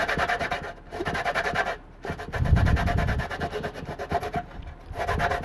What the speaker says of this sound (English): So we're gonna zest this up,